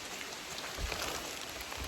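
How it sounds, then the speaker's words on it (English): Steady rain falls on a wooded trail during a hike near Gray's Arch in Red River Gorge, a soft, even hiss of drops on leaves and ground with no voices, continuous and moderately faint. "It's still raining and I don't believe it's going to let up any."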